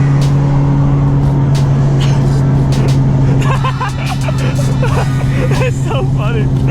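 Street traffic passing during a Skyline GT-R photoshoot, a steady loud engine and road rumble with vehicles driving by, with people talking and a busy crowd murmur over it.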